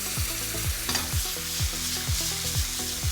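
Finely chopped garlic and tinned diced tomatoes sizzle in a pan as a utensil stirs them, with regular scraping strokes, about five or six across a few seconds, over a continuous close frying hiss.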